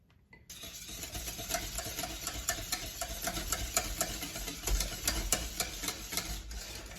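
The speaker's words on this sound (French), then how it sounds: "On continue de mélanger car notre casserole est chaude." A utensil scrapes steadily around a hot saucepan of thick pastry cream, a soft continuous stirring with small clicks against the pan, close and fairly quiet with no talking.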